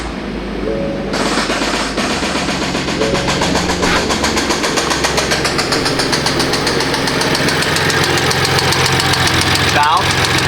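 A BMW M4 engine with about 77k miles restarts and settles into a loud, close idle with a persistent rhythmic ticking knock, while a voice talks over it.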